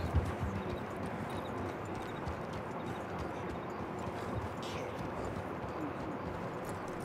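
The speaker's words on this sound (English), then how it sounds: "Oh, that's a horse." Horse hooves clip-clop steadily and evenly in Red Dead Redemption 2, blended into a dense bed of outdoor ambience with faint bird calls, at a constant moderate level throughout.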